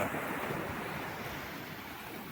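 Sea waves washing onto the Mumbai seashore at midday: a brief, steady surf wash with wind, fairly soft and continuous, no voices.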